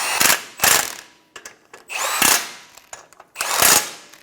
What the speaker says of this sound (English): Tighten down the ball joint nuts.